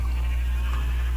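Sheep bleating in a Minecraft-style automatic wool farm, a short continuous bleat heard over a steady low hum, with no one talking.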